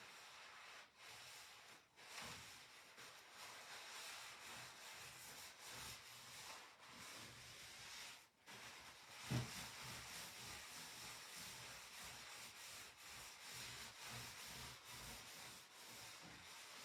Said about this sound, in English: let me get my napkins. And let's do a little rubbing.